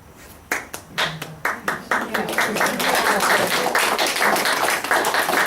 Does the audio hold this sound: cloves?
no